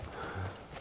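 A horse in the video game Crimson Desert neighs with a brief whinny over a background game soundscape. The cry is short, mid-loud and fairly close.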